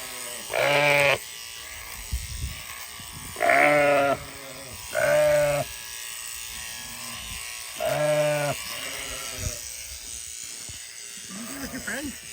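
Sheep bleat loudly and close by in several separate calls during a shearing day, with a steady electric shears buzz running underneath and people talking nearby.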